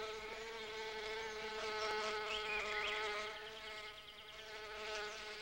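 Small male bees hover around a scented orchid, producing a steady, close, high-pitched buzzing that swells and fades slightly with no voices.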